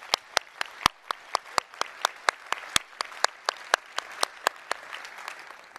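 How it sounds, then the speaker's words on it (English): Scattered, distinct handclaps from a conference audience at a Strata + Hadoop tech keynote, about twenty sharp claps over six seconds in an irregular, thinning rhythm, with no talking over them. "please give a big round of applause for the Apache Software Foundation"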